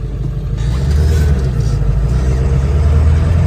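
A Ford F350 truck with a 7.3 Powerstroke diesel engine and a manual gearbox, a barn find parked for ten years, revs up into a loud, steady, close-up rumble that holds throughout.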